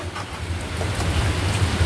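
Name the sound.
heavy rain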